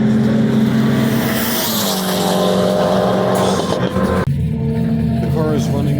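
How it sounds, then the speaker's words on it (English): A loud, steady turbocharged Peugeot 205 GTi engine drones close by with a rough, throaty note, running continuously before a brief dip near the end. "The car is running"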